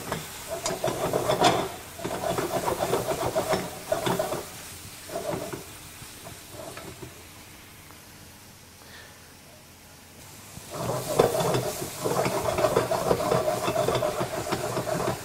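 Pork browning in a pan with vinegar and fennel, Italian style, hisses and sizzles in bursts as the meat is turned and scraped, dipping to a quieter simmer in the middle before swelling loud again.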